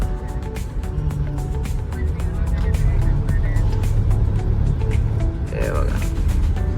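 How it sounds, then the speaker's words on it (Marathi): A Dehradun depot bus travels ahead on an early-morning mountain road near Devprayag, heard as a steady, fairly loud engine and road rumble that runs throughout while a person talks over it. "हे आपल्यासमोर एक देहरादून डेपोची गाडी चाललेली आहे"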